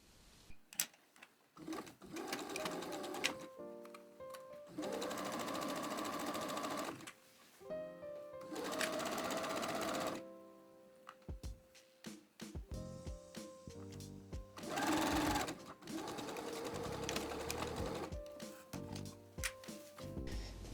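A sewing machine stitches the pocket seam allowances to the seam allowances of a fitted dress, running in several sustained bursts of steady mechanical whirring separated by short pauses, close and clear with no talk.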